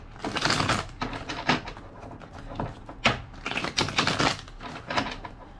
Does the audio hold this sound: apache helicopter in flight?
no